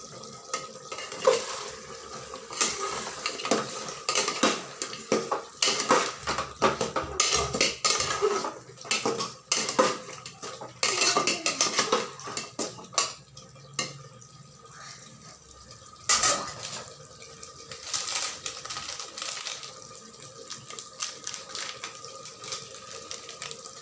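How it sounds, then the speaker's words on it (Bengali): A spoon stirs handi mutton in a pot, scraping and clattering against the metal in an irregular, continuous rhythm over a faint sizzle, close and fairly loud with no talking. "নাড়াচাড়া করে নিচ্ছি।"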